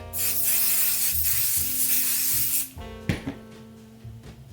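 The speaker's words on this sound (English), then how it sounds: "now we're going to spray some temporary spray adhesive." A loud, steady hiss of temporary spray adhesive from an aerosol can lasts a few seconds on fabric, then cuts off, followed by quiet rustling and handling sounds.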